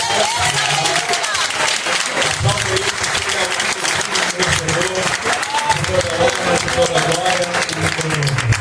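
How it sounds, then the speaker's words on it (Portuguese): Loud, sustained congregation applause at a Pentecostal church anniversary celebration, dense clapping and crowd noise filling the space throughout, with voices mixed into it. "Vamos aplaudir ele, vamos."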